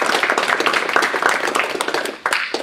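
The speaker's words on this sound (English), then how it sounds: "let's give John a round of applause" An audience at a talk on data wrangling and public government data claps for a speaker, a fairly thin, uneven patter of individual hands that dips briefly before a final burst.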